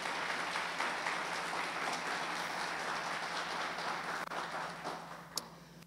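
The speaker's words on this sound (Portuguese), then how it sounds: "Aplauda ele, isso é motivo de..." An audience at a church-style motivational event, Destravar Day, keeps up a long, fairly faint wash of applause. The clapping is steady and distant, with one sharper clap near the end.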